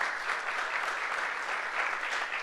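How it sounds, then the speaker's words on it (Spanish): An audience at a conference on public sector accounting standards applauds in a continuous, even patter of many hands, moderately faint and without speech over it. "Por favor, un aplauso."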